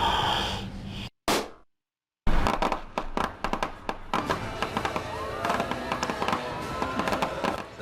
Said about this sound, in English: will get to watch a fireworks display